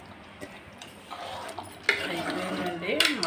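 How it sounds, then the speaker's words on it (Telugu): Raw mango pieces tipped into a pot of cooked mutton curry, giving soft clinks and scrapes of a utensil against the pot, moderately close, with a faint voice in the background. "ఇప్పుడు మామిడికాయ ముక్కలు వేసుకుందాం"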